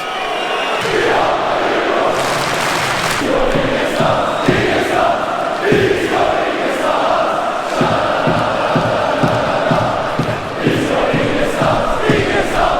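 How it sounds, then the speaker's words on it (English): Football crowd at a Hammarby versus Djurgården derby chanting in unison after word that the match would not go on, a dense, loud, sustained roar of many voices with rhythmic swells. "The crowd is chanting, we're not going anywhere."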